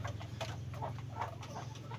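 A fighting rooster, a cockpit winner, clucks in short bursts over a steady low engine hum, fairly close.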